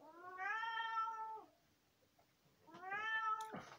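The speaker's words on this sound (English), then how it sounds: "The cat's kicking off." A cat lets out two long, drawn-out meows separated by a short pause, close and fairly quiet in an otherwise still indoor room.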